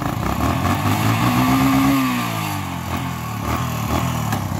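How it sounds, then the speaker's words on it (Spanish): A Yamaha XTZ 125 motorcycle engine revs up close for a stunt, its pitch climbing sharply then dropping as the throttle is released, settling into a steady, moderately loud running drone. "entonces vamos a girar esa moto a ver cómo nos va"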